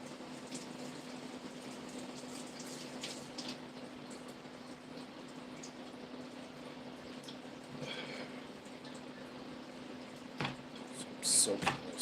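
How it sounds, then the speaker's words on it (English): Water running steadily to wet and soak a rag, a continuous hiss over a low constant hum, with a few louder splashes and handling clunks near the end. "I'm going to wet this rag and then I'm going to soak them"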